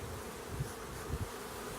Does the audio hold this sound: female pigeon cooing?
no